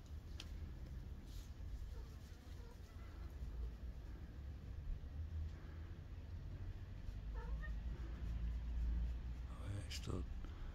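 A cat eats and gives a few faint meows at close range, heard quietly beneath someone talking in a calm indoor setting.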